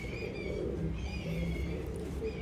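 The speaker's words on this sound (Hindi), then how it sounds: "ये इसकी नोट है, ये इस कबूतर की नोट है" A pigeon kept as a show bird coos close by, soft repeated low throaty calls with faint higher chirps in the background.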